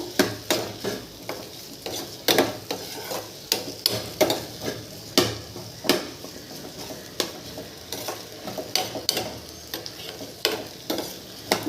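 Okra and green tomato sautéing in oil in a pan, a steady sizzle broken by repeated rhythmic scrapes and clanks of a spoon stirring the vegetables, close and fairly loud, with no talking.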